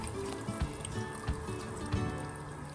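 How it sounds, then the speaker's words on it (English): Water trickles into a Eureka can filled to the top in a school density practical, with soft drips falling from the spout at a steady, close, moderate level. "right the way to the top until water starts dripping out the spout over here."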